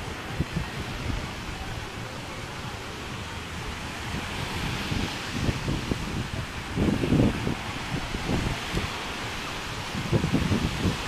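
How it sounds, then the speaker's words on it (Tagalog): Rough sea waves wash steadily onto La Playa Beach in Cavite, Philippines, with rolling surf and gusts of wind buffeting the microphone, no voices present. "yan yung dagat to. Maalon nga lang."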